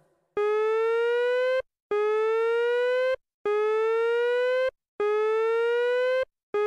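The Starr Park emergency siren from the game Brawl Stars wails in repeated rising electronic tones, five long blasts separated by short gaps, loud and steady with no voices.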